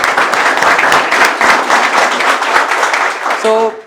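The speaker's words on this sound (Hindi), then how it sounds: "तालियां बजाइए।" A crowd at a marine academy rating session applauds steadily throughout, a dense, even wash of clapping from many hands that ends with a brief tonal sound.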